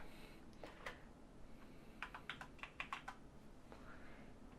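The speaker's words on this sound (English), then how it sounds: "Literally the second I typed in my password, it popped up." Someone types a password on a computer keyboard: a quick cluster of faint, close key clicks in rapid irregular bursts, with a few scattered taps before and after, over a steady low room hum and no voices.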